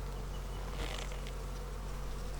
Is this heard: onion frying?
no